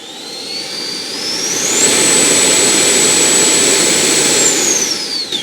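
An FMS F-86 Sabre model jet with an 80mm electric ducted fan runs up during a thrust test, a loud steady whine climbing in pitch, holding at full power, then winding down near the end.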